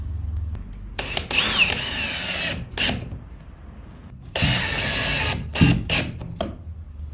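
A power drill drives stainless trim screws into ZIP System roof sheathing on a three-wall shed, running in several short whirring bursts of about a second or less, separated by pauses and light handling noise.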